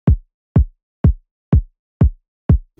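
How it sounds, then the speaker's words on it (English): A punchy trap-style kick drum sample, used as the bottom layer, hits six times at an even half-second pace, each a deep, booming thump that decays quickly into silence. "So it's really like a trap sounding kick drum."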